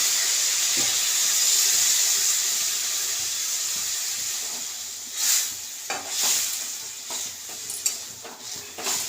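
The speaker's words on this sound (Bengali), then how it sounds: "চলো এবার গরম জলটা দিয়ে দিচ্ছি দেখছো গরম জল দেওয়াতেই" Hot water is poured into a cooking pot, giving a soft steady hiss and steamy sizzle, followed by a few sharp clinks and stirring knocks near the end.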